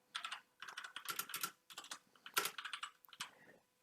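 Code being typed on a computer keyboard, with close, crisp keystrokes arriving in quick bursts separated by short pauses, heard alone.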